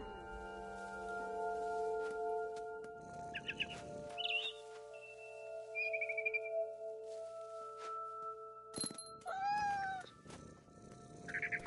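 A cat meows in a PS4 video game over sustained electronic musical tones and a few short bird-like chirps, with one drawn-out meow standing out near the end.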